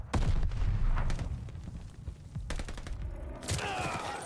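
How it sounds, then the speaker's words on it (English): Loud, dense battle noise in Call of Duty Vanguard: a grenade blast booms amid crackling gunfire, with sharp bursts and rumbling low-end throughout. "Incoming grenade."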